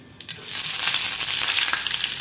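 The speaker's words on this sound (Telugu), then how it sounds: "ఆయిల్ కాస్త వేడయ్యాక ఇందులోకి ఆవాలు, జీలకర్ర, అలాగే కరివేపాకు" Mustard seeds, cumin and curry leaves hit hot oil with a sudden crackle that settles into a steady, fairly quiet sizzle with small pops throughout, heard close up.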